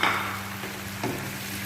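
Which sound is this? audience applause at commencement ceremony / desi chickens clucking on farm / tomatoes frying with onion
tomatoes frying with onion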